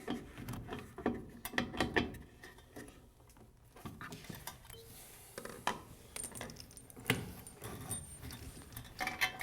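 A wrench tightens the mounting nuts of a bathroom faucet: close, quiet metallic clicks, scrapes and ratcheting taps in irregular bursts, with a short lull partway through and no talking.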